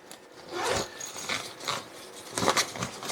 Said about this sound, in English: Inside the hood, you'll notice that there is a separate zipper compartment.